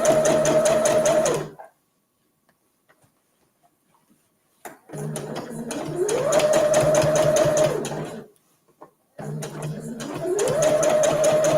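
Sewing machine stitching the side seams of a fabric gift bag, running in three steady bursts of whirring stitches separated by short silent pauses.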